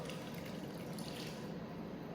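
Water pouring steadily into a cooking pot, a continuous soft rushing splash, close and unbroken, with no talk.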